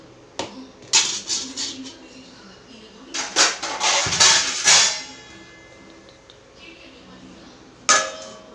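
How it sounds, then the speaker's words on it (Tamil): A metal lid clatters and clinks onto a cooking pot of salted water set to boil, several sharp metallic knocks and scrapes in quick bursts with short pauses between them, then one last clank. "அதை மூடி வச்சிடலாம். தண்ணி கொதிக்கட்டும்."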